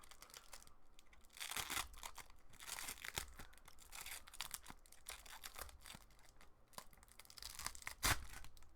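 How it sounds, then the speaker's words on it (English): Protective plastic film is peeled off a new D-Link DCS-5009L pan-and-tilt Wi-Fi camera, giving close, quiet bursts of tearing and crinkling with short rustling scrapes. "Some plastic off of it that we'll take off."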